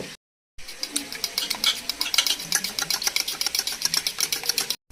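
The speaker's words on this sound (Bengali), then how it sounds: "এখন এই তিনটা ডিম ভালো করে ফেটে নিব" Three eggs beaten briskly with a fork or whisk in a bowl for chicken chowmein, a steady rapid clatter of fast, even strokes that starts after a brief pause and runs close and clear with no talking.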